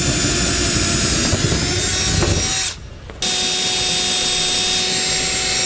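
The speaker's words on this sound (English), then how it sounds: "we'll now drill them out with an 11/32 drill bit" A steady, high-pitched whine of a power drill with an 11/32 bit, enlarging pilot holes while fitting a ladder rack to a trailer side wall, runs continuously, stops briefly, then resumes just as loud and sustained.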